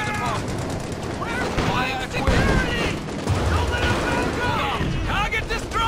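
Company of Heroes 2 battle with British forces: booming cannon blasts and bursts of gunfire rumble beneath shouted commands, heavy low impacts landing at intervals through the combat din.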